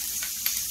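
Garlic hits hot oil in a pan of frying green beans, a short clip of continuous close sizzling hiss with one small spike partway through and no voices.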